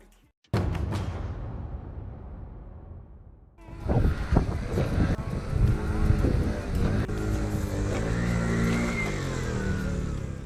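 A 50cc scooter's small engine runs hard at speed on a motorway, its steady buzzing drone joined by the louder roar and wind rush of a passing truck, continuous and close.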